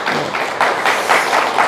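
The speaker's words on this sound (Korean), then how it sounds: "박수 한번 드리겠습니다." A church congregation claps for a family during a Sunday worship service, producing a dense, even patter of hands with a few louder swells. No voices are heard over the clapping.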